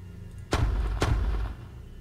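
Two sharp gunshots ring out about half a second apart in a video game on an empty server, each a loud, close crack with a booming tail and nothing else around.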